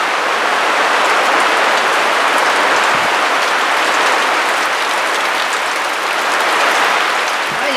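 Hard rain pounds down outdoors in a dense, loud, unbroken roar of drops hitting surfaces, steady throughout with no voices.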